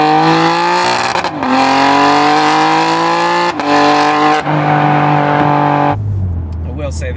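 Loud engine of a BMW G80 M3 Competition fitted with a Fabspeed full turbo-back exhaust, heard from inside the car as it downshifts, with rising revs, brief drops between gears and a final crackling settle.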